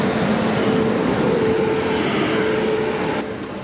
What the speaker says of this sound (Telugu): ఈ ట్రైన్ ఏంటో తెలుసా అండి, గంగా కావేరీ ఎక్స్ప్రెస్.